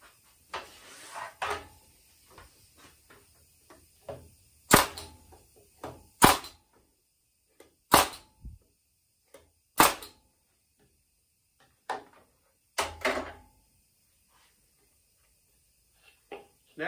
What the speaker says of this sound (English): Turn it over and then we'll staple it.